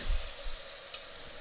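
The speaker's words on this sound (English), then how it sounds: "As you can hear, the sizzle going down." Tilapia sizzles steadily in a hot skillet, a close, continuous crackling hiss with a few soft bumps of movement.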